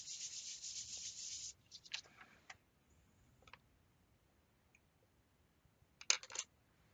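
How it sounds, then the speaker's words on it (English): A polymer clay pendant piece is burnished by hand, giving a close, soft hissing rub for over a second, then a few brief scratchy strokes, a long quiet stretch, and a final short flurry of rubbing. "I'm just going to burnish that because there'll be fingerprints through it"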